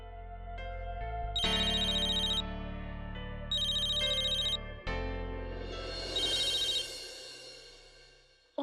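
A telephone rings with a repeating electronic tune, loud and close, in steady bursts over a sustained tonal background, then fades near the end.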